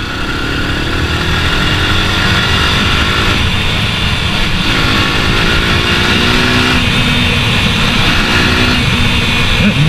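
A 2013 Yamaha YBR 125 ESD motorcycle engine runs loud and steady at close range, its revs rising and falling in a few swells over a continuous mechanical drone.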